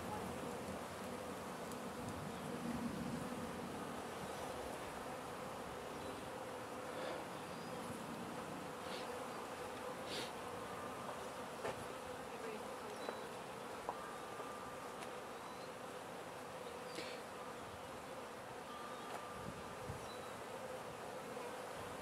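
Honeybees buzz steadily around a hive during a swarm check in early summer, a continuous close drone with scattered louder passes of individual bees, and no talking.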